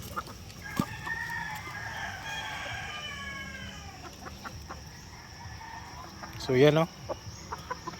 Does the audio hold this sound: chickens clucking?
yes